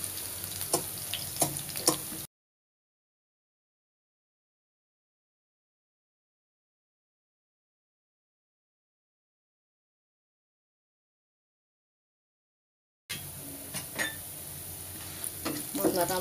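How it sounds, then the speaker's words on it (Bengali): Spices frying in a pan for radish dal give a steady crackling sizzle with sharp pops, cutting out to full silence midway before the sizzle returns. "মশলাটা আমার ভাজা হয়ে গেছে।"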